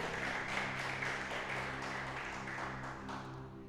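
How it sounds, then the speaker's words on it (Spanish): A church congregation applauds, a soft, even patter of many hands over a low sustained tonal hum, heard fairly faintly and easing slightly toward the end. "Dale un fuerte aplauso al Señor."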